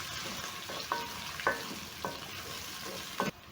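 Onions, ginger and carrots frying together in a pan, a low steady sizzle broken by a few sharp scraping clicks of stirring spaced about half a second apart, close and moderately quiet with no talking.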